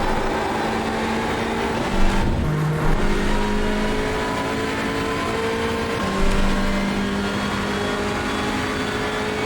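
A Hyundai Elantra race car in the iRacing sim at Watkins Glen, a loud, steady engine drone with shifting pitch, brief surges where the revs change, and other cars audible nearby.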